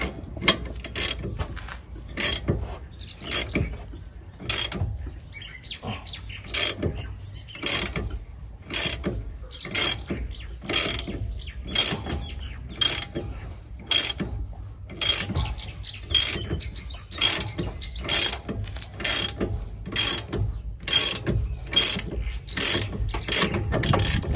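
A hand ratchet is worked steadily to press out an old ball joint on a Dodge Ram 1500 front end. Loud, close, rapid clicking comes in regular repeated strokes for about twenty seconds, with no talking.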